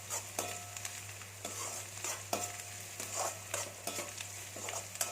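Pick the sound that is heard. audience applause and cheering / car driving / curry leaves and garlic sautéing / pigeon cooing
curry leaves and garlic sautéing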